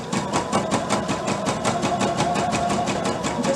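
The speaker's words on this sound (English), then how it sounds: "And I try to zigzag right along the decorative edge." A sewing machine zigzag-stitching elastic along the decorative edge of underwear, running in a steady fast rhythmic whir with evenly spaced needle pulses, close and alone with no talk.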